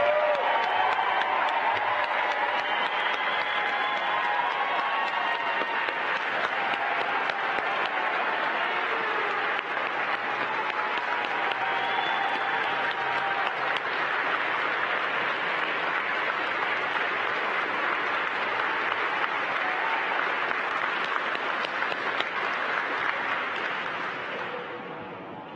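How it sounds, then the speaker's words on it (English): Sustained audience applause at a NASA event announcing its new class of astronaut candidates, a dense, steady roar of clapping with some cheering that holds for about twenty-five seconds before easing off at the end. "Let's give them a big round of applause."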